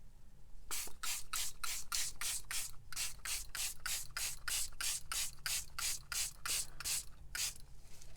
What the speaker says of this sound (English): And we are going to go ahead and spray.